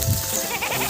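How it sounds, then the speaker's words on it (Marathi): Goats and sheep grazing in a soybean field, a short burst of bleating close by over steady outdoor background noise. "इकडून सोडून राहिल्या मेंढ्या आणि आपल्या शेळ्या"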